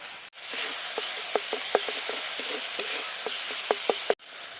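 Spices with salt and turmeric sizzle steadily in a pan while cooking for potol korma, a pointed gourd curry. A soft, continuous frying hiss runs throughout, broken by scattered sharp clicks of stirring, with no talking.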